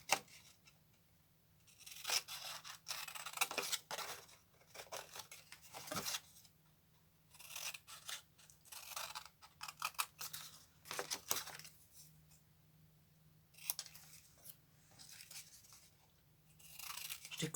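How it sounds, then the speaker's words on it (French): Scissors cut paper words out for a collage in a quiet room, giving repeated short crisp snips and rustles in irregular bursts, close and soft. "Je découpe tout ça."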